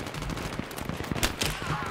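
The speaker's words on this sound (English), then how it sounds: "No, I'm just shooting." Gunfire from the first-person shooter Battlefield 3: a fast, dense run of overlapping shots and bursts, loud and close, keeps going through the entire short clip.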